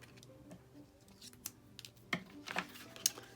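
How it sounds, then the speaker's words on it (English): A few quick snipping cuts of scissors through paper, spaced irregularly, close and fairly quiet against a soft room background. "So I'm just going to trim it with my scissors."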